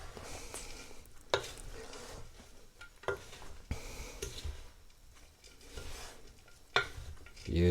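Christmas pudding mixture with ground spices being stirred in a bowl, a soft continuous scraping and squishing with a few sharper knocks of the spoon against the side, close and fairly quiet with no talking.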